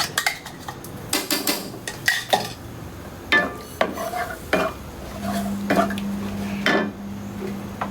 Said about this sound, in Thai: พริกแกงลงไปคั่วกับสักที